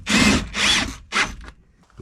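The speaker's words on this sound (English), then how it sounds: "Put the last of the self-tap screws in" A power drill drives self-tapping screws into a gate in three loud, close bursts, the first two longer and the last shorter, each with a whirring buzz, followed by quiet.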